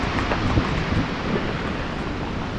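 Strong typhoon wind at Signal Number 4 roars without a break, a dense, heavy, close rush of wind noise buffeting the microphone the whole time.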